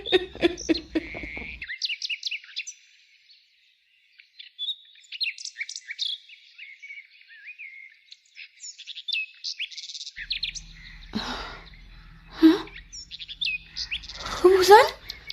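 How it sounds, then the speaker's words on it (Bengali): Cartoon morning scene with birds chirping and calling, bright bursts of tweets near and far, a quiet lull in the middle, then denser chirping mixed with rustling toward the end. "পাখির ডাক শোনা যায়,"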